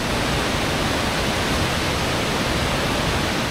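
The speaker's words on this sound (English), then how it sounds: "we come across a popular tourist destination, the beautiful Rupse waterfall" Rupse waterfall in Nepal's Himalayas roars as a steady, dense wash of rushing water, loud and close, with no break or other sound over it.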